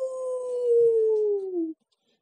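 A voice imitates a donkey trying to howl like a wolf: one long, drawn-out, wavering howl that slowly slides down in pitch, heard alone, clear and close, then cut off into silence.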